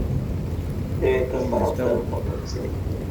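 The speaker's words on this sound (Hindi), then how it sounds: "बारिश तेज हो।" Steady rain roars under a voice as he gives a spoken religious discourse, with a low rumble throughout.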